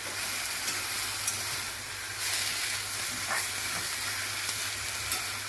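Kovla bhaji, a wild leafy vegetable, cooks in a pan with a steady, even sizzle and hiss, and faint scrapes from stirring come through now and then. No one talks.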